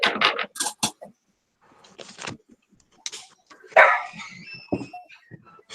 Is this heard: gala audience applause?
no